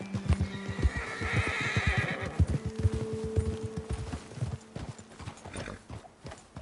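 Horses in the video game Red Dead Redemption 2 galloping with rapid clip-clopping hooves and loud whinnying neighs, close and rhythmic before slowing toward the end.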